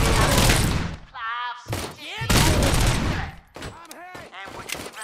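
Gunfire rings out in the first-person shooter RoboCop: Rogue City, loud dense bursts of shots filling the clip with short gaps between volleys and some game sounds in the breaks.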